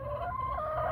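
Chickens in a coop built to keep them safe overnight, clucking close and clear in short, wavering calls over a low steady hum, with no one talking.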